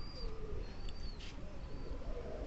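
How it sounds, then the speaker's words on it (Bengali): A giribaz pigeon coos softly at dusk, faint calls over a low, steady background rumble. "কত সুন্দর ডাক আমার কবুতরের"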